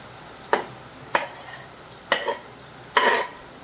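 Bhel with chopped onion, tomato and green chilli is tossed and mixed in a bowl, giving four or five distinct rustling, scraping bursts at irregular intervals against a quiet kitchen background.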